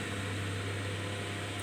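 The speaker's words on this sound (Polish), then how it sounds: "Sorry za szum, bo wiatrak" Steady hum and whoosh of an electric fan running close by, constant and unbroken with a low motor drone.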